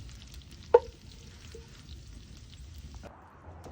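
Browned sausage and pork meat sizzle faintly in a pot, a low steady frying hiss broken by a sharp clank of a utensil against the pot, then a slightly stronger sizzle near the end.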